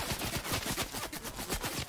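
Rapid bursts of video game gunfire crackle in quick succession, a dense, loud run of shots fired about every tenth of a second with no voices over them.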